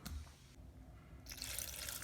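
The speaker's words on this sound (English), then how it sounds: "we've got to add water" Water pours in a steady stream into a pot of elbow noodles, quiet at first and then louder and more hissing as the flow increases.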